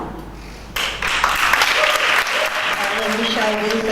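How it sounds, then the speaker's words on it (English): Audience at a reading competition final bursting into applause, a dense wash of clapping that starts suddenly and carries on steadily, with a voice speaking over it toward the end. "Give another round of applause."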